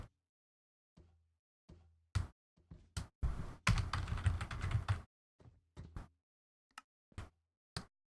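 Fingers type on a computer keyboard in short bursts of clicks, with one longer stretch of rapid continuous keystrokes in the middle and isolated single taps between quiet pauses, close and fairly crisp.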